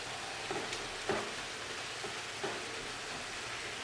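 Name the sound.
ground beef frying and browning in a pan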